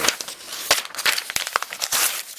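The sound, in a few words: Blade-Tech U.L.U. folding knife cutting paper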